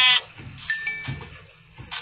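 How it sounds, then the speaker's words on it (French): A sheep in the Minecraft video game gives short, wavering bleats, game sound effects heard clearly with no talking over them. "Ben, je tue le mouton."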